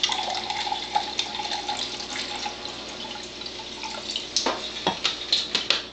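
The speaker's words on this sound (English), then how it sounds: "And that, and then I'm going to pour the acidic water here." Acidic ionized water pours into a container, a steady close trickle and splash that builds toward louder gurgling bursts near the end, with no talk over it.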